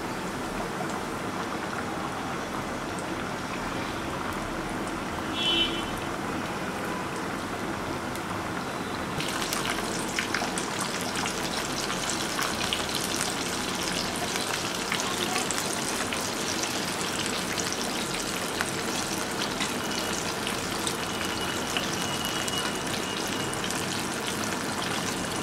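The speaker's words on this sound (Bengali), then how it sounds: "এবার আমি চিকেন দিয়ে দিচ্ছি।" Chicken pieces deep-frying in hot oil for a homemade crispy fried chicken make a continuous rain-like sizzle and crackle, steady and close, growing a little brighter partway through.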